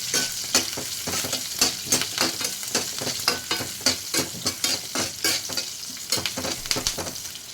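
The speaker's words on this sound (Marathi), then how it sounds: "चांगले भाजून घ्यायचे" Fasting-dish mixture with chillies being roasted and stirred in a pan, a steady sizzle broken by repeated close scraping strokes of a spoon at a quick, uneven rhythm, with no voices.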